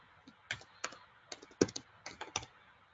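Fingers typing on a computer keyboard to enter a new password: a quick, uneven run of close, crisp key clicks in short bursts, with no talking.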